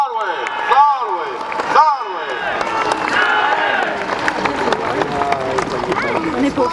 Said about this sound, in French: Soldats, acclamez le nouveau centurion.